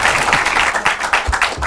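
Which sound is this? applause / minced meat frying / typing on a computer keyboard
applause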